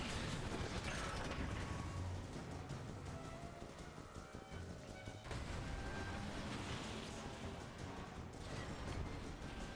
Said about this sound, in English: Use Dark Energon to open the door